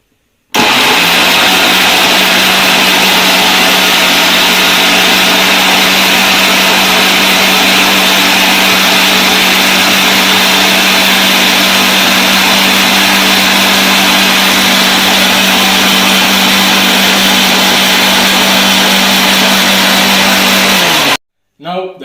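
An electric blender grinds chopped onion with a little added water, a loud, steady whirring motor running continuously for about twenty seconds before cutting off abruptly.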